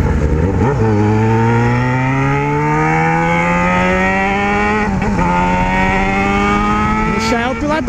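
A Yamaha XJ6 motorcycle's engine revs and climbs steadily through gears, loud and sustained, with a brief dip and pickup as it rides, under some wind noise.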